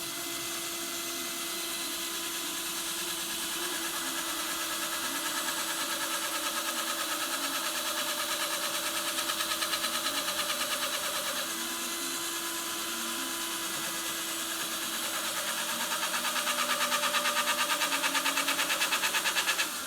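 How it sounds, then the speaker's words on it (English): A part spins off-center on a motor-driven shaft, giving a steady whirring drone with a faint rhythmic wobble that holds for the whole stretch, moderately loud and close, with no talking. "That noise you're hearing, the wobble, is because it wasn't seated totally flat."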